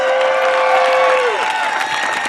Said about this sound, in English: Everybody, let's give him a big round of applause.